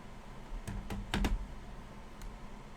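A few separate key presses on a computer keyboard while setting up a newly built gaming PC, sparse and close, with a quick cluster of clicks in the middle and a single tap near the end.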